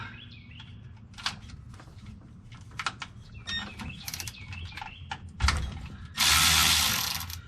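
Ratchet clicking while turning bolts on the rear differential of a 2006 Dodge Ram 1500, several short bursts of close, crisp ratcheting with metallic taps, ending in a louder rasping burst.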